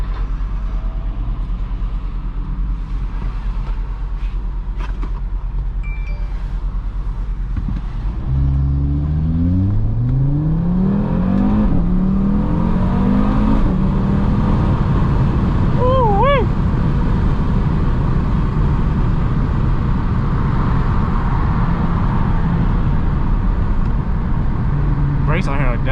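An Audi RS3 revs up and pulls away hard, its engine note climbing through rising gears over a steady road rumble heard from inside the cabin, loud and continuous throughout.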